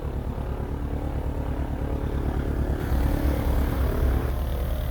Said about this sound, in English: We'll let the engine warm up for a little while, then we'll do a run up on the engine